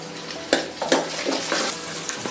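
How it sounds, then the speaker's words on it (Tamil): Vadagam, sun-dried seasoning, dropped into hot oil for a river crab gravy, frying with a steady close hiss broken by a few sharp pops and crackles. "எண்ணெய் சூடாகிடுச்சு. கொஞ்சம் போல் வடகம் போட்டுக்குவோம்."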